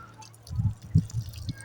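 Water from a hand-pump tap by the Chenab River in Chiniot, Punjab, Pakistan falls in a few soft, irregular drips and splashes, close but quiet, with no talk.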